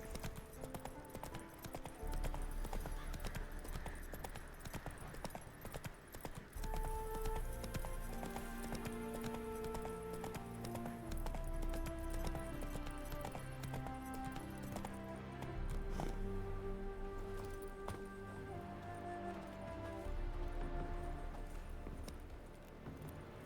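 Roach, the horse in The Witcher 3, gallops with a steady, rhythmic clip-clop of hooves that runs throughout under a bed of game music, moderately close and even.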